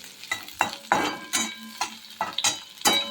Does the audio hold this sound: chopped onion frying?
yes